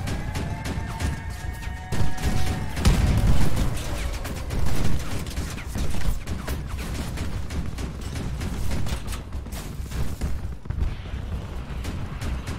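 Repeated heavy cannon shots and impacts during Crossout vehicle combat gameplay, a busy stretch of loud thuds and crashes over a constant engine rumble.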